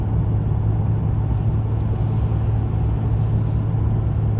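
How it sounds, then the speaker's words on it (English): A 2017 Mercedes E300 4MATIC driving uphill gives a steady, loud, low engine and road drone inside the cabin, constant throughout with no talking. "Engine doesn't sound very good. Kind of sounds like a vacuum cleaner"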